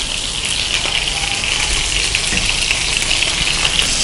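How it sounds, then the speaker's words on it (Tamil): Prawns frying in hot oil on a low flame, a steady dense sizzle and crackle holding at even loudness throughout with no talk. "இப்போ நான் ஃப்ரை பண்ணிக்கிறேன்."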